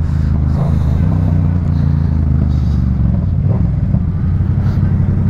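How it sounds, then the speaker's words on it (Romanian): Steady close engine drone of a motorcycle being ridden along a road on the way to the Transalpina, loud and continuous with wind rush and occasional faint clatter. "Merge atât de frumos motocicleta acum."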